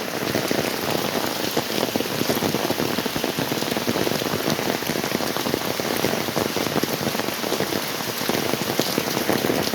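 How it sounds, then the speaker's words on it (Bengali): Torrential rain pours without letup, a thick, even hiss and patter of countless drops striking close surfaces, loud and unbroken across the whole stretch. "ও বৃষ্টি, ঝমঝমে বৃষ্টি একদম"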